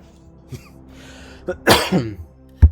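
A single sharp cough bursts out after a few quiet breaths, followed by a short throat noise, close to the microphone.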